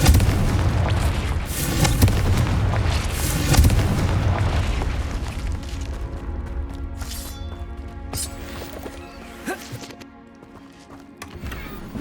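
Confringo explosion spells cast in Hogwarts Legacy, heavy booming blasts rolling out over the first seconds, then fading into lighter clatter and scattered impacts.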